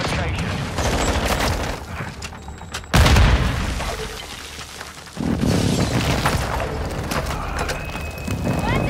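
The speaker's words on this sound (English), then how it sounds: "Hostile airstrike near your location." Heavy booming blasts of a hostile airstrike in Call of Duty: Modern Warfare II on the Embassy map, a sharp loud hit near three seconds and another surge later, amid rattling gunfire and game voice lines.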